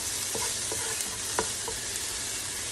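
Onion and tomato sauté in a pan as the base for fish curry, giving a steady broadband sizzle with a few soft scraping stirs, and no one speaking.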